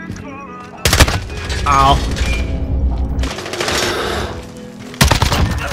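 Bursts of SA87 gunfire in a Search and Destroy match of a video game: three loud, sharp volleys spaced about two seconds apart, with a player's brief exclamation and voice chat in between.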